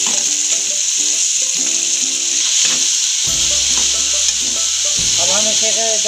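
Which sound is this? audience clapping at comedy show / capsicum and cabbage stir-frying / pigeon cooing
capsicum and cabbage stir-frying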